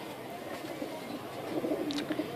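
Pigeons coo softly in low, throaty murmurs, several overlapping calls close by, with a faint hum of background noise and no talking.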